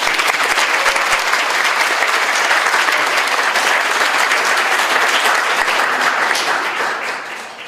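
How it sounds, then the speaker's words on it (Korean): A congregation gives a loud, sustained round of applause for a church at a Korean disability mission group's 20th anniversary service, dense and steady before easing off at the end. "순복음 영성교회도 박수를 쳐드립니다."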